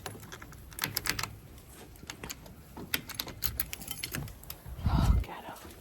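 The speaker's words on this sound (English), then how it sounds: "My key always gets stuck" Keys jangle and scrape in a stuck door lock, a run of close metallic clicks and rattles, with a heavier thud and rustle near the end.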